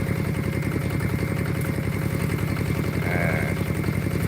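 Steady tractor engine chugging loudly and evenly while driving through farm fields during straw plowing in Khon Sawan, Chaiyaphum, with a brief faint whine near the end and no talking.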